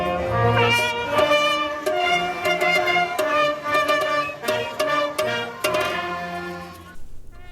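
Massed musicians at Canterbury Park in Minnesota, gathered for a world-record attempt, blare the racetrack call to the post. Bright stacked brass-like tones ring out in short bold phrases and fade into a brief tail.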